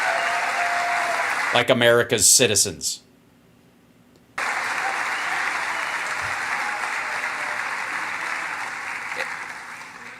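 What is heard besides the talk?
crowd applause at political speech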